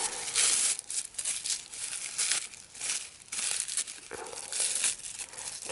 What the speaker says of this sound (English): Careful with the plastic bag so it doesn't rip.